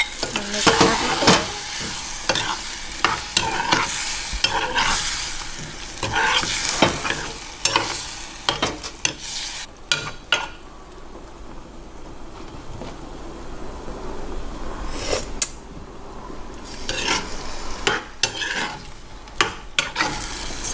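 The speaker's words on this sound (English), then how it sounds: "And mix everything." Pork belly mixed with coconut sauce in a pan for Vietnamese caramelized pork belly, with repeated scraping stirs and clatter over a constant sizzle, close and loud, plus a brief quieter lull midway; no talk.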